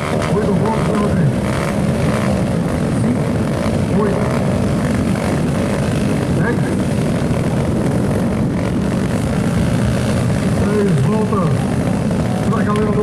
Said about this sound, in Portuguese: carro 18 já vai subir o giro dos motores